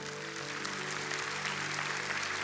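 A church congregation claps during a sermon, a steady, dense wash of applause filling the room at moderate level, with sustained tonal hum or music beneath and no speech over it.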